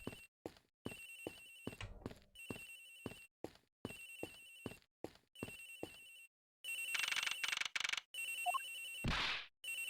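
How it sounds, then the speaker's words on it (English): A cell phone rings in the Ace Attorney Investigations video game, a loud electronic ringtone repeating in regular bursts, joined near the end by louder chiming tones and a sweeping sound effect. "Agent Hicks's phone! It's ringing from somewhere, sir!"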